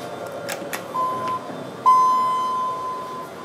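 A Dover hydraulic elevator's alarm bell at a university activity center sounds as two sustained electronic tones, a short one followed by a longer one lasting over a second, loud and close with no talk over it.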